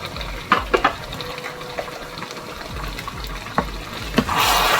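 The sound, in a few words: stirring egusi soup in a pot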